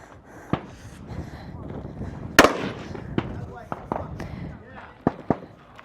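Rifle shots ring out at an outdoor firing line during a regional men's elite competition stage: several sharp, spaced cracks, one much louder than the rest, over wind and faint background movement.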